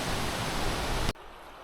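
A stream along the Appalachian Trail in the 100 Mile Wilderness rushes in a close, loud, hissing wash of water. It cuts off abruptly near the end, leaving only a quiet background.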